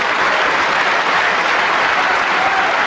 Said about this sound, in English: Warm applause mixed with relief from White's army of supporters.